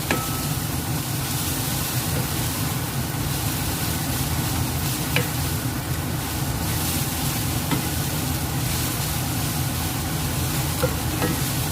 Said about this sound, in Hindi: इसी में डाल देंगे हम हरी मिर्चें, ज़रा इसको करेंगे अच्छा सा मिक्स।